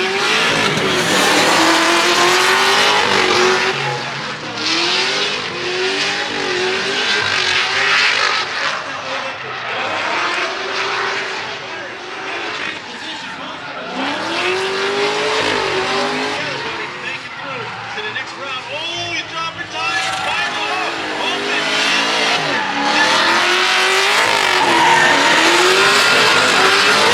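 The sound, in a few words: drift car engine revving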